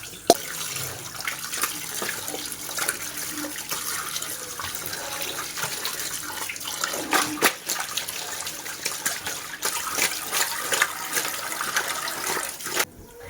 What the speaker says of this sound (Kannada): ನೋಡಿ ಸೊಪ್ಪಲ್ಲಿ ಎಷ್ಟು ಗಲೀಜಿದೆ ಎಲ್ಲ ವಾಶ್ ಮಾಡಿಬಿಟ್ಟು